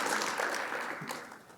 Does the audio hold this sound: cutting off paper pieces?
no